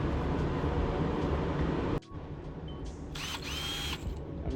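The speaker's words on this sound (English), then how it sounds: "I'm going to drill some eyes." A power drill whirs steadily and loudly while boring eye holes into a carved wooden bluefin tuna fishing lure, then stops abruptly, leaving brief handling noises and a quieter whine.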